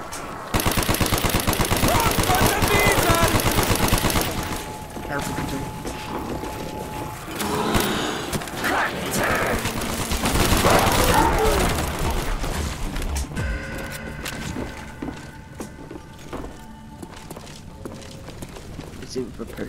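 Gunfire from a weapon in Call of Duty: Black Ops Zombies on the Kino der Toten map, with dense rapid bursts early and later, louder bursts around the middle, set among game noise and talk.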